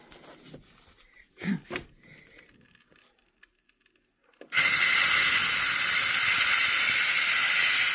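Steam vents from a pot of chicken broth, a loud, constant high-pitched hiss that bursts on suddenly after quiet clicks and handling noises and continues unbroken.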